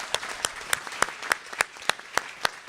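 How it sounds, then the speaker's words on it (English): A small audience applauds student scholars at a foundation scholarship luncheon, with a thin, steady patter of claps and sharper individual hand strikes rising above it. "Please join me in a round of applause congratulating our student scholars."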